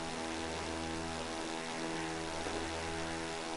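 Steady high-revving drone of a Honda 450F motorcycle engine near 11,000 RPM, tearing down the Las Vegas Strip in the racing game The Crew 2, holding a constant, even pitch throughout with no voices.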